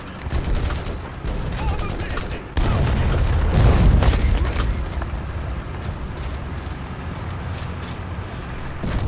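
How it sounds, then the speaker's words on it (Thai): Tank cannon fire and machine-gun bursts from a War Thunder battle, a loud sustained barrage with heavy booms that thickens midway, with speech faintly mixed in. "ยิงกดไป"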